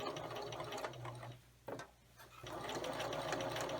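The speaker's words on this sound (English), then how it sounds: "Continue stitching with a straight stitch all the way around." A sewing machine runs a straight stitch around a fabric Valentine treat bag. Its steady, close whirring motor stops briefly partway through, then resumes at an even pace.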